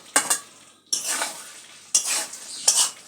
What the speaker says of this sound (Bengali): তো চলো মশলা কষানো হোক